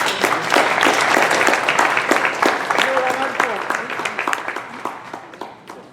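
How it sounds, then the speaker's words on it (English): Applause from a conference audience welcoming the first panelist at a gathering about Puerto Rico after Hurricane Maria, dense steady clapping from many hands that fades gradually over about six seconds. "please welcome our first panelist with a great round of applause"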